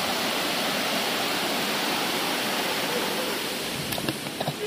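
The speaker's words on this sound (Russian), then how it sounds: "Водопадик такой." A small waterfall beside an old mill pours in a steady, close, continuous rushing wash that fills the whole stretch, with a few faint clicks near the end.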